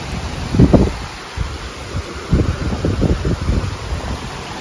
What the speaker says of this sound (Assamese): ধুনীয়া বতাহ দিছে